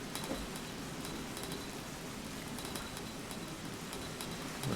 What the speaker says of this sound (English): Sounds like it's doing another downpour.